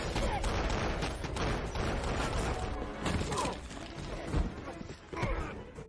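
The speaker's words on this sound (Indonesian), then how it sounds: "terjadilah adu tembak" Gunfire in a film shootout between civilians fighting over data: scattered rapid shots and crashes, fairly faint and mixed with background noise and a voice.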